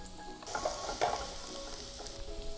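Shallots and chili hit hot oil in a pan, giving a steady crackling sizzle that flares when the ingredients drop in, fairly quiet and close with no talking.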